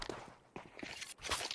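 Quick footsteps in a competitive Rainbow Six Siege pro league match, a short run of soft, close steps with some busy game noise around them.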